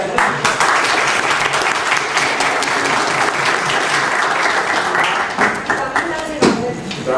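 Loud, dense clapping from a group at an induction session, continuous and close, tapering slightly near the end where a voice briefly speaks over it.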